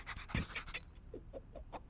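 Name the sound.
dog panting in a cartoon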